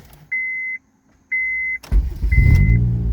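Two electronic chimes sound in a 2001-2005 Honda Civic, then a new starter cranks briefly and the engine catches and settles into a rough, loud idle, with another chime during the start.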